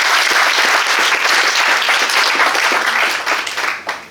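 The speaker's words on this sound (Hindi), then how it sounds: "अच्छा ताली तो बजा ही दो" An audience at a presentation breaks into loud, dense applause, many hands clapping together before the sound thins out toward the end.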